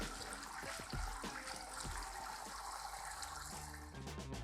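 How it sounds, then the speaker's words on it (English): Cooked fettuccine pasta draining and being rinsed in a sink, a steady loud rush of running water with splashing and gurgling throughout, no talk. "I'm gonna drain and rinse my pasta now just to remove any excess starch."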